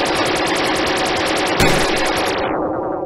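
Rapid automatic gunfire rattles in a steady, evenly spaced burst in FNAF The Last Day of the Earth, loud and continuous with a sharper blast midway before the shots fade out.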